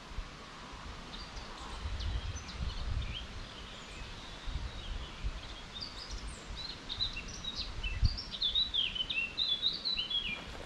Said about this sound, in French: Écoutez l'oiseau.